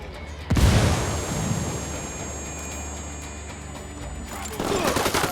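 A frag grenade detonates with a sudden loud boom in the video game Ghost Recon Wildlands, followed by a rumbling wash of debris and gunfire-like noise that tails off, then another burst of combat near the end.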